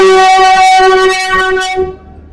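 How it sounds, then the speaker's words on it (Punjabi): A Vande Bharat train on the Firozpur to Delhi route sounds a sustained tonal horn blast, loud and close, holding steady before fading out near the end. "ਇਹ ਵੰਦੇ ਭਾਰਤ ਟ੍ਰੇਨ ਹੈ ਜਿਹੜੀ ਕਿ ਫਿਰੋਜ਼ਪੁਰ ਤੋਂ ਦਿੱਲੀ ਦਾ ਇਹਦਾ ਰੂਟ ਹੈ"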